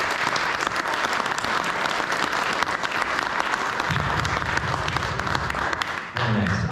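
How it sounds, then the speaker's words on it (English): An audience claps for candidates at a state senate district debate, a full sustained round of applause with a low rumble joining midway before the clapping thins at the close. "Can we give these guys a round of applause?"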